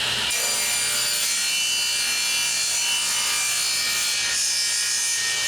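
A saw cuts steadily through cedar scraps, ripping them into thin strips with a loud, continuous grinding rasp that runs almost the whole time after a brief quiet start.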